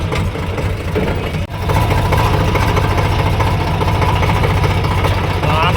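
A tractor engine runs steadily and loudly, close by, with a deep throbbing idle rhythm that dips briefly once before carrying on unchanged.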